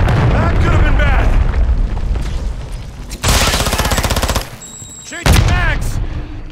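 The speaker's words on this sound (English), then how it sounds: "Hostile cruise missile incoming." Heavy booming blasts and rapid gunfire in Call of Duty: Modern Warfare 3 multiplayer, with a loud cruise missile explosion rumbling over a sustained roar, then another burst of impact and rattling fire, all loud and dense.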